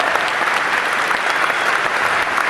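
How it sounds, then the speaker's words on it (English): A theatre audience at the Gadget Show 2014 breaks into a dense, even round of applause, a continuous wash of many hands clapping close by with no pauses. "Give yourself a huge round of applause."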